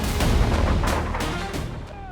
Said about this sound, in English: Famous for its devastating GAU-8 Avenger 30mm cannon, the aircraft flew low over the combat zone while simulating attacks against armored vehicles